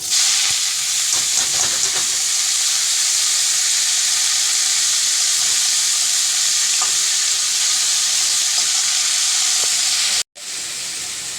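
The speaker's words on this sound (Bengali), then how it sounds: "এই যে শাকটা কেটে ধুয়ে রেখেছিলাম এবার আমি কি করব তেলে দিয়ে দেবো" Washed leafy greens fry loudly in hot oil with garlic, a dense, continuous close sizzle and hiss with a few light stirring taps, briefly cutting out near the end.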